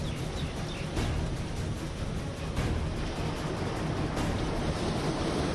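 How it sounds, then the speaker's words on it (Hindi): Rough sea surf crashes continuously on Digha beach in East Midnapore ahead of Cyclone Yaas, a dense, steady roar of breaking waves mixed with gusty wind buffeting the microphone, with no talk. "सागर की लहरें किनारों से टकराकर ऊपर तक पहुंच रही हैं।"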